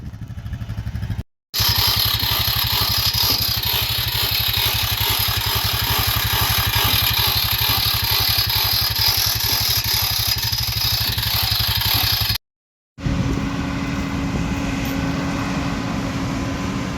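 A combine harvester cutting soybeans during harvest gives a loud, steady engine drone with a mechanical whine and rattle. It runs continuously for most of the stretch, broken by two brief silent cuts.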